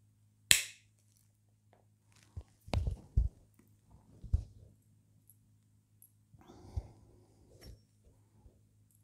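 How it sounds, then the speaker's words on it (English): Clippers cutting scrap pieces of dichroic glass, a few sharp separate snaps and crunches spaced over several seconds, with small clinks and handling noises between them against a quiet low hum. "So I just get your clippers and cut them off to how you want them."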